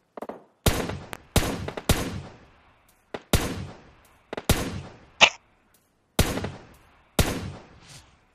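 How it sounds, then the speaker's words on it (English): Gunshots in the mobile battle-royale game PUBG Mobile: about nine sharp, loud single reports at uneven intervals, each ending in a short decaying tail, with a brief high-pitched blip in between. "we got shots over here"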